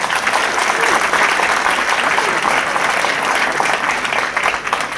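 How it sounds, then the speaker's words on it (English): A crowd in Uganda gives sustained, enthusiastic applause, loud and continuous clapping from many hands that fills the room evenly. "when you clap, you really do clap."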